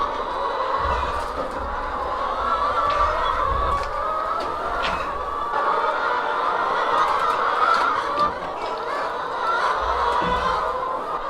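A flock of chickens clucks and murmurs steadily throughout, with occasional sharper squawks rising above a busy, continuous background chatter.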